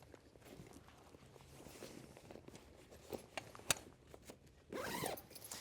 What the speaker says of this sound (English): I'm going to zip it up in here.